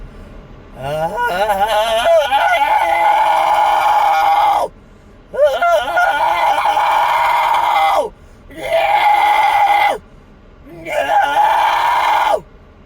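A man demonstrates a vocal scream, letting out four long, loud, strained screams in a row with short breaths between them.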